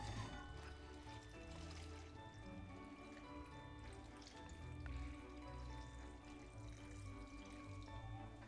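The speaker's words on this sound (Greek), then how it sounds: "Ρίχνω από πάνω νερό." Water is poured over potatoes and celeriac in a kitchen pot, a soft continuous trickle and splash that stays faint and steady throughout, with no talking.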